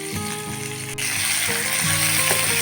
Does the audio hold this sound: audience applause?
no